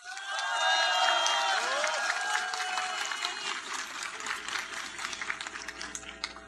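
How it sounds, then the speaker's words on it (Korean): An audience at a political speech gives a rolling wave of applause after a brief spoken phrase, the clapping fairly faint and distant with crowd murmur beneath. "따뜻한 박수 부탁드립니다."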